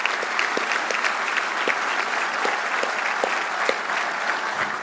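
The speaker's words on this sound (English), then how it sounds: "how about a round of applause for all who made today's ceremony possible?" Steady, sustained applause from a large audience at a combined military university graduation ceremony, many hands clapping evenly in a broad hall with no voices above it.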